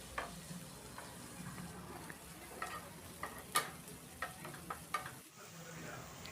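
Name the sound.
chopped tomato sautéing in a pan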